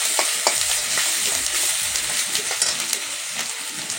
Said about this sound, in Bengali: পেঁয়াজ বাটাটা দিয়ে হালকা একটু নাড়াচাড়া করে নিচ্ছে